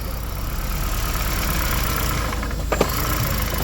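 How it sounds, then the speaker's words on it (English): A Toyota Prius engine idles roughly and steadily, with a brief stumble and knock near the end as it nearly stalls and catches again. "the engine tries to turn off and then fires again"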